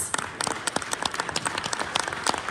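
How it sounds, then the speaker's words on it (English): Applause at a leadership training seminar in Warsaw, Poland, honouring Riway International: a moderate crowd clapping with distinct individual claps audible in an uneven, lively patter, close and clear, with no talk over it. "can we give Riway International a round of applause"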